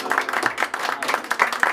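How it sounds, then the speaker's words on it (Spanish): Brief applause at a birthday party with mariachi for a girl named Carol, a short burst of scattered hand clapping from a small group, close and lively. "Un aplauso."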